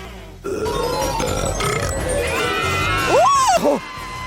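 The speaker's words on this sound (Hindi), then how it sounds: "और अब एक असली डकार।" A loud, close burp after drinking from a cola bottle, a rising and falling croak near the end, with a voice talking before it.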